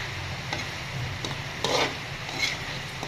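Sambot simmering in oil in a pan, a steady low sizzle and bubbling with a few soft stirring scrapes, close and moderately quiet, no talk.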